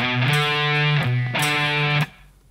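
An electric guitar plays two sustained, slightly distorted notes of a riff with a slight string bend, close and clear, then stops abruptly.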